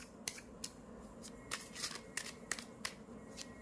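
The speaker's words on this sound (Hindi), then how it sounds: "let's start shuffling your cards." Tarot cards being shuffled by hand, a soft series of irregular close riffles and taps, quiet and with no voices.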